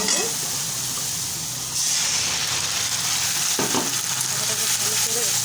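Ginger paste and spices are sautéed in a wok, giving a loud, dense sizzle that swells after a short pause, with a utensil scrape partway through.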